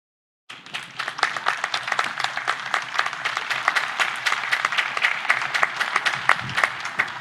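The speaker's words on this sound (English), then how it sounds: "Let's give another round of applause" An audience at a law school spring commencement breaks into sustained applause, dense overlapping clapping that starts abruptly and holds steady throughout, with no speech over it.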